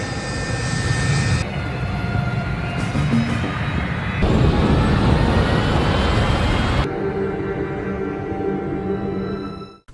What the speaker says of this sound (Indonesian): pesawat Ojons Airlines jurusan Amrik pun take off